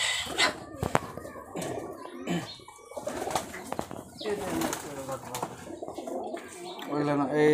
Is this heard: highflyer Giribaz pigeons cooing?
yes